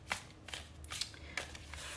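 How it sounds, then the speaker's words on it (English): Tarot cards shuffled by hand in a quiet room: a few soft riffling, flicking bursts spread over two seconds, close and fairly faint. "Let's shuffle it really well"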